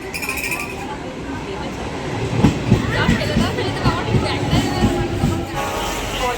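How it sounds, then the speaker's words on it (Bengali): A train rumbles into Nalikul station with rhythmic clattering and metallic clinks of wheels on track, fairly close, while voices murmur in the background. "ট্রেন ঢুকছে নালিকুল স্টেশনে, এবার ট্রেনে উঠবো।"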